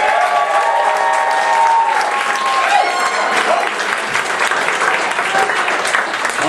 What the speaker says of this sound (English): Please make a lot of noise for Jackson Jones!